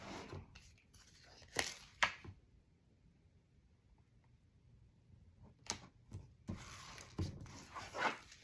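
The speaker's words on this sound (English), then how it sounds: "For this one, I am not going to tear it. I'm going to cut." Scissors cutting through thick tape while making a handmade base album, a few sharp snips and crisp slicing sounds separated by quiet pauses, close and fairly soft.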